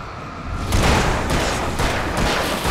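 Bursts of gunfire in the video game Alan Wake crackle over a dense, noisy game soundscape, with loud shots landing at irregular intervals and no voices.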